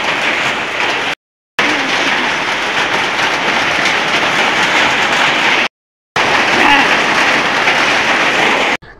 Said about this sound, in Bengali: বৃষ্টি শুরু হয়ে গেছে, বৃষ্টি পড়ছে তাই না?